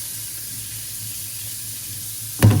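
Water runs steadily from a tap over a paint brush being rinsed clean of paint, a constant hiss with a sudden louder splash near the end.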